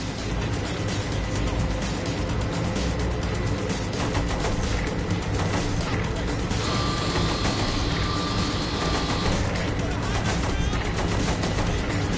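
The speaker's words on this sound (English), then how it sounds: "Use the machine gun then, not the cannon." Dense, continuous rapid machine-gun fire from a vehicle in the video game Saints Row: The Third Remastered, over a loud engine roar, with a high whine rising partway through.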